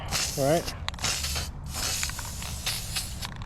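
Aerosol spraying of Rust-Oleum satin nickel paint onto brake calipers during a 1954 Bel Air Mustang II front suspension install, a steady close hiss in broad bursts with short pauses, a voice briefly audible.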